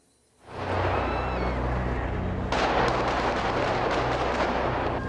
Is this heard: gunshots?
yes